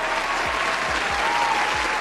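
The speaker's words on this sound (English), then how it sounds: "Give Boyce Watkins a round of applause for giving me yet more content." Steady applause from a crowd fills the clip, dense and continuous, with a faint thudding beat underneath.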